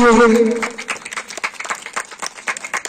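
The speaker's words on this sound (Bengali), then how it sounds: "একটু সকলে হাততালি দেন" A crowd at a stage show bursts into clapping, brisk irregular claps close by, starting after a brief voice at the opening.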